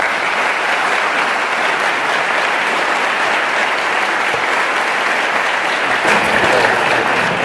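Sustained applause from a large audience at a business school lecture by Marco Rubio, dense and even clapping that fills the whole clip without pause.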